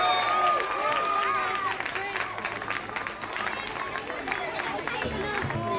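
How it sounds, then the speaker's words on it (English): An audience at a live music event breaks into loud, sustained applause, dense clapping mixed with cheers and whoops from the crowd, tapering slightly before a voice and background noise rise at the end. "Give yourselves a huge round of applause"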